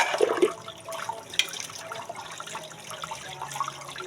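Tap water running during dishwashing, a faint steady splashing and trickling with a few clinks of plates, close by and continuous.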